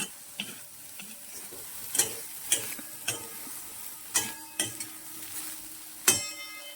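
Soybean chunks are sautéed in a pan with a spoon, giving a series of sharp scraping clicks at irregular intervals over a soft, steady sizzle, close and fairly quiet.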